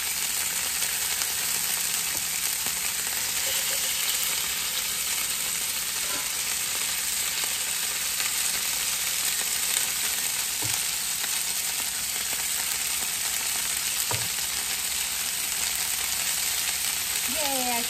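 Food sizzling and frying in a pan crowded with a full single batch, a steady loud hiss running throughout with a few faint clinks and scrapes.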